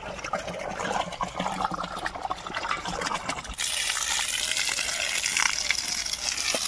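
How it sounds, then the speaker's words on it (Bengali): Water pours and gushes onto pumpkin plants in a garden bed, a steady rushing flow that grows fuller and louder halfway through, heard close with no clear talking. "তো একটুখানি ঝিরঝিরে জল দিতে হবে"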